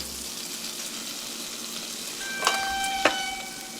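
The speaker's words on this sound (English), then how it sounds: "I'm roasting off the bacon so I can get the fat" Bacon roasting in a pan to render its fat, giving a soft, steady sizzle with a couple of sharper pops and clinks near the end; no one talks.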